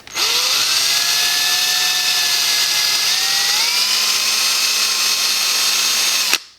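Power drill fitted with a polishing pad working on an Isuzu Stylus headlight lens, a steady close whine that steps up in pitch twice before stopping abruptly; no talking.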